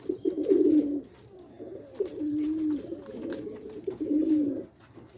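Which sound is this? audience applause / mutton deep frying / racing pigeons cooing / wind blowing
racing pigeons cooing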